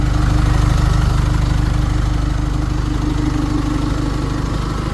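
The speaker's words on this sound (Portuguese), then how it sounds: "olha o motor dela funcionando." A 2018 Chevrolet S10 LT double-cab 4x4 diesel pickup idling, a loud, close, steady low rumble with an even rhythmic chug and faint mechanical clatter, holding constant with no voices.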